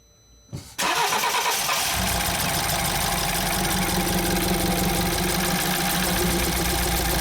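A BMW X3 with a starting fault gives a brief starter crank, then its engine catches and settles into a loud, steady, close idle with a rough, slightly uneven rumble.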